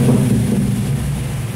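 A 1990 Chevrolet Caravan six-cylinder gasoline engine with Monza EFI injection revs hard, giving a dense, loud low rumble throughout the short stretch.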